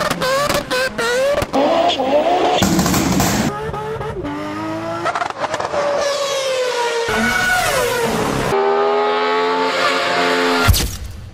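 A petrol car engine revs hard through rising and falling pitches in repeated bursts, loud and close, like a car being driven fast through the gears.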